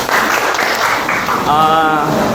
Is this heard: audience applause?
yes